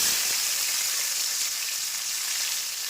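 Chopped tomato hits a hot pan of oil and spices for a prawn and banana-flower dish, setting off a loud, steady, close sizzle that holds evenly for about three seconds with no voices over it.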